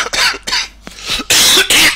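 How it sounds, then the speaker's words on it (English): A person coughs several times in quick succession during a live StarCraft league broadcast, harsh, chesty bursts loud and close to the microphone. "a chesty cough"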